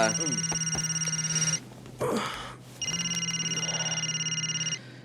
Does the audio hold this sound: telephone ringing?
yes